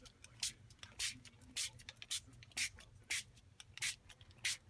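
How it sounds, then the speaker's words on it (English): Repeated short hissing bursts from a spray nozzle onto a desk, about eight in a row at a steady rhythm, close up with faint background noise. "I just sprayed my entire desk."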